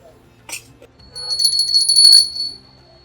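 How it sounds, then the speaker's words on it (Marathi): A brief metallic clink, then a copper or brass bell rings with a bright, sustained shimmering tone for about a second and a half before fading, in a market. "घंटा वेगवेगळ्या प्रकारच्या वेगवेगळ्या साईजच्या"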